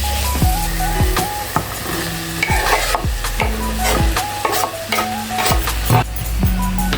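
Chickpeas are stirred and fried in a pan for a watermelon rind gravy, with steady sizzling and repeated scraping strokes of a spoon against the pan at a loose rhythm, close and loud.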